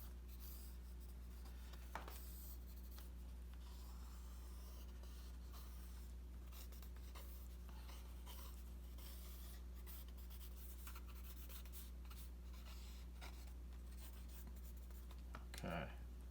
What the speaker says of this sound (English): just maybe scratch over some of these. With a pencil